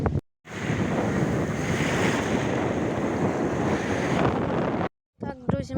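Sea waves washing onto a beach at Hurghada, a steady loud surf roar mixed with wind buffeting the microphone, cut by a brief silence near the end before a voice begins.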